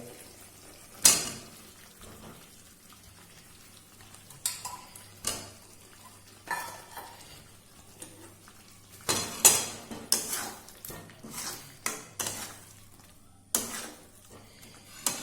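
Fried potatoes being stirred into biryani in a pot, with scattered spoon scrapes and clinks against the metal at an irregular pace over a low steady hum, no voices.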